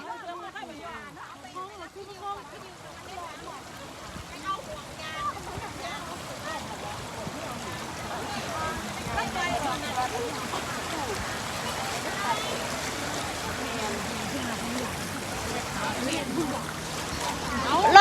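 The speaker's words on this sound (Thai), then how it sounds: "ป้าดน้ำไหล" Flowing water where children play, a steady wash and splashing running throughout while voices talk over it.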